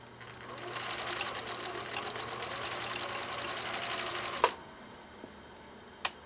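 A 1962 Husqvarna Viking 19E Special sewing machine stitching through eight layers of cotton polyester: a close, steady, rapid whirring chatter for about four seconds, then it stops, followed by a few sharp clicks.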